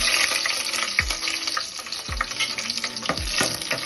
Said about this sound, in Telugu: నెక్స్ట్ నేనైతే చిల్లీస్ కట్ చేసి పెట్టుకున్నాను, అవి వేస్తున్నా